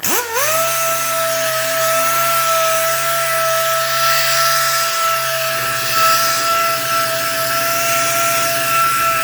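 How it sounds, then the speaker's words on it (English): An oscillating multi-tool fitted with 100-grit sandpaper, used for rust repair, buzzes at a high, steady pitch throughout, loud and close, with no talking. "On the oscillator, 100 sandpaper."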